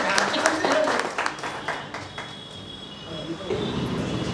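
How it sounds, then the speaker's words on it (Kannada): Applause and clapping from a crowd at a cooperative credit society's fourth annual general meeting in Bidar, a steady spread of hand claps that rises and falls under scattered talk. "ಚಪ್ಪಾಳೆ ಹೊಡ್ರಿ, ಕೈ ಮಾಡ್ರಿ."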